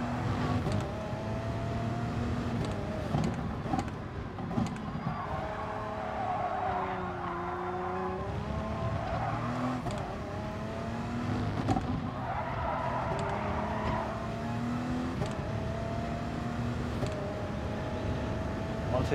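Race car engines in the video game Gran Turismo Sport, a continuous loud engine roar rising and falling with gear changes, with tire squeals and skids over the top throughout.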